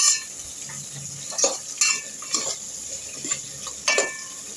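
Tomatoes and mixed vegetables fry softly in a pan while being stirred, with a low steady sizzle broken by a few sharp clinks of the spoon against the pan.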